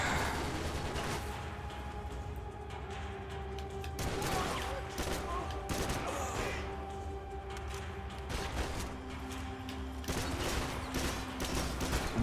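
Bursts of gunfire from the video game Max Payne 3 crackle repeatedly over a steady background hum, forming a dense, continuous volley of shots with no voices.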